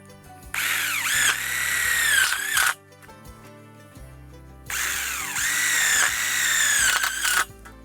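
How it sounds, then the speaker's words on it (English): A power drill drives two tech screws into a greenhouse purlin joint, two loud sustained whirring bursts of a few seconds each separated by a short pause, close up with no talking. "we're gonna install 2 tech screws in our first joint here of purlin."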